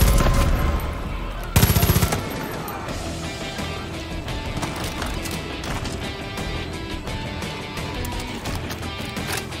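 Sustained gunfire in the video game Far Cry 5, a dense rattling barrage that runs the whole stretch, with a louder burst of shots early on, loud and continuous.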